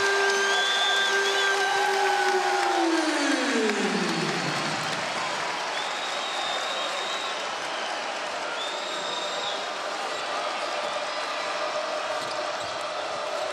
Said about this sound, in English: Now, look, listen to the crowd now.